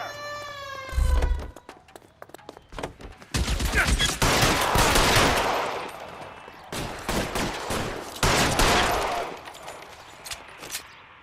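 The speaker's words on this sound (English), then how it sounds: "Open fire!" L.A. Noire shootout during a car chase: loud sustained volleys of gunfire crackle in dense bursts with short gaps, after a brief siren-like wail at the start, with engine and impact noise mixed beneath.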